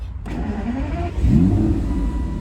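A 5.9-litre V12 in a 2006 Aston Martin DB9 Volante cranks briefly, then catches and revs up into a deep, steady rumble close by.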